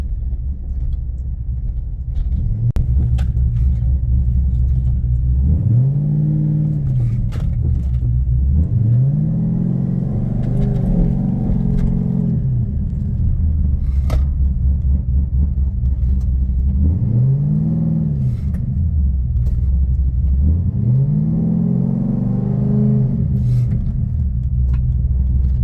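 A fifth-generation Chevrolet Camaro with newly installed -6 AN PTFE transmission lines drives on the road, its engine rumbling steadily and rising in several revving swells as it accelerates and eases off, close and loud.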